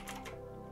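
Brief typing on a Razer BlackWidow V3 mechanical gaming keyboard, a quick burst of a few clicky keystrokes up close, fairly quiet.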